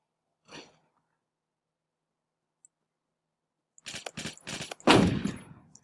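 A gun fired in the Roblox shooter Phantom Forces: a short shot, then near silence, then a rapid close burst of several cracking rounds ending in a louder, heavier blast.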